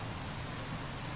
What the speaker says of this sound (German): Regentropfen.